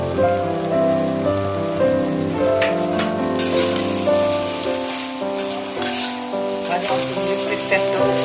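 Spices sizzle and crackle in a hot pan, a steady frying hiss layered under continuous background music.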